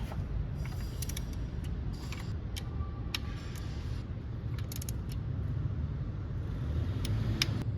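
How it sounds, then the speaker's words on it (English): A torque wrench set to 10 foot-pounds tightens valve cover bolts on a car engine, giving scattered sharp ratchet clicks in small clusters over a low, steady mechanical background. "let's begin tightening it from the center"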